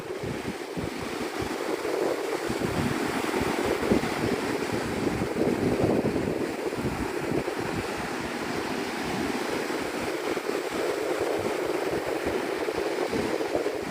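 Continuous surf rolls onto the sand at Opal Beach, Florida, a steady, near roar of breaking ocean waves mixed with light wind rumble on the microphone, with no voices.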